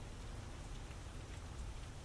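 Soft, steady drizzle hisses evenly with faint patter, low and unbroken throughout, with no voices.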